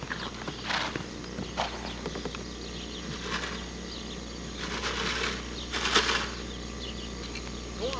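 A horse moves about near people handling it, its hooves giving a few irregular soft clops over a steady low hum, with brief bursts of rustling or flapping, no talk.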